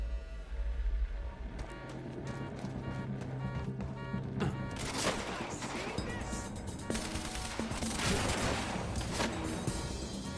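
Gunfire from snipers in the video game Quantum Break: a low rumbling opening gives way to bursts of rapid, loud shots and sharp cracks that crowd the second half, dense and near, with no talking.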